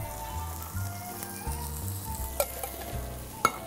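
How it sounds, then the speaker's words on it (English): Petite tomatoes dropped into a pan of sizzling curry and clove, a steady fry hiss with a couple of sharp spatters and light stirring clinks near the end. "We're going to add our petite tomatoes."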